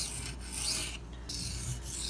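A Benchmade Mini Freek knife with an S90V steel blade is drawn across a sharpening stone in short, close rasping strokes, a dry gritty rub repeating with brief pauses between passes.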